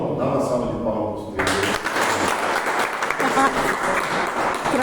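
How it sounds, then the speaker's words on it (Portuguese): Audience at a pastoral therapy class giving a round of applause, dense clapping that starts abruptly after a moment of voice and music and continues steadily to the end. "Dá uma salva de palmas."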